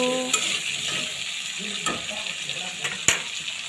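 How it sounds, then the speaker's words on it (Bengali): Onions and green chilies stirred as they fry in a pan, a steady sizzle running throughout with a few sharp scrapes and clinks of the utensil against the metal, close and fairly loud. "পেঁয়াজ সাথে কাঁচামরিচ দিয়ে হালকা একটু নেড়ে চেড়ে নিব"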